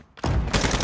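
A brief, loud burst of close gunfire in a Call of Duty video game, a rapid string of shots under a second long.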